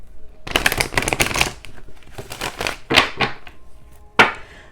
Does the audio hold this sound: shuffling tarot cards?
yes